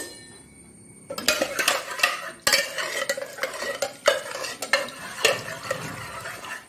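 Cooked bottle gourd and bimbli are mashed in a pot for a Tulunadu-style sambar, giving repeated close scraping and stirring knocks of a utensil against the pot, with brief pauses between strokes.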